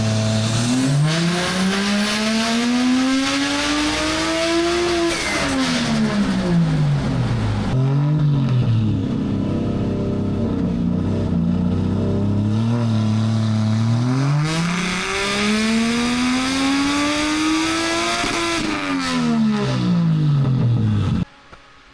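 A Toyota JZX90 engine revs hard on a dyno in long rising and falling sweeps, climbing to a high pitch, dropping, then climbing again, loud and close with a steady mechanical roar.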